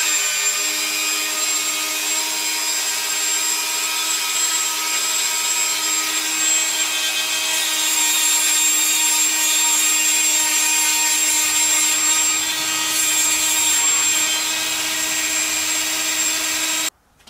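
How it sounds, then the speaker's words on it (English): A Dremel rotary tool on a flex shaft, hung from a Dremel 220 workstation, whines at a loud, steady, high pitch for about sixteen seconds, then cuts off abruptly. "You can just hang your Dremel with the flex shaft off there, and then that will allow you to use your Dremel from a very good working position using the flex shaft."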